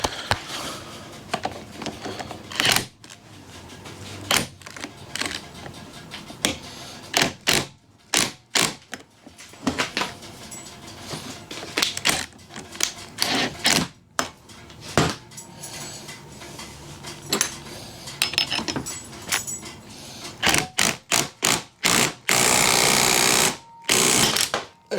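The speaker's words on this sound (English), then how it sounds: "jammed a screwdriver through here just to separate it, but she was on there tight" A screwdriver prying apart the engine case of a Garelli SSXL moped, with irregular metallic clanks, scrapes and knocks of tool on metal, some sharp and loud, scattered across the clip without talk.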